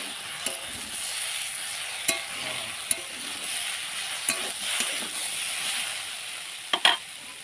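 Cauliflower stems frying in mustard oil sizzle gently while a spatula stirs and scrapes the pan in irregular strokes, with a few sharp clicks and knocks.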